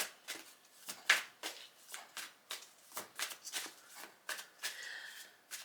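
Tarot cards being shuffled and pulled by hand, a quiet, close sequence of crisp riffling snaps and slides in an uneven rhythm, about a dozen bursts with no talk.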